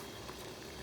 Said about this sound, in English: the water that you're using in steaming